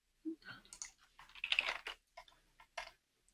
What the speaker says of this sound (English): I heard that comma on your fancy programmer keyboard there.